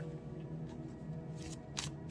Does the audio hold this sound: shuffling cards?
yes